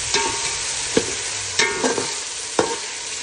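Masala spices being stir-fried in a pan while cooking prawns with okra, a continuous close sizzle broken by several sharp scrapes and knocks of a spatula against the pan.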